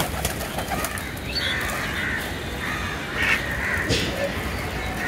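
Pigeons at a pigeon house during feeding in the late afternoon, soft cooing and wing flutters mixed with outdoor bird calls, moderately close over a steady background.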